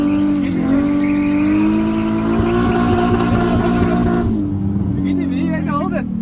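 A Nissan 350Z engine revs high and steady while drifting, holding a strained harmonic drone before dropping back, with tire squeal toward the end and a voice talking over it.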